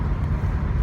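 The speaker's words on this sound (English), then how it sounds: "Triumph Stag, whizzing along comfortably." A classic Triumph Stag driving along smoothly, heard from inside as a steady low engine and road rumble mixed with wind noise, loud and continuous.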